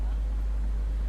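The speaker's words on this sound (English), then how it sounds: "Sorry about that humming noise." A generator drones as a constant low hum outside a building's front doors, steady and fairly loud throughout, with muffled street ambience in the background.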